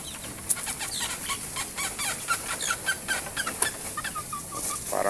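Chickens cluck and squabble while being fed, many short overlapping calls and occasional sharp squawks amid faint rustling and wing movement, fairly quiet and distant.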